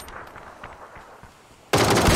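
Gunfire from a 7.62mm assault rifle in the PUBG video game: faint, scattered distant shots, then a loud, sustained burst of close firing in the final half-second.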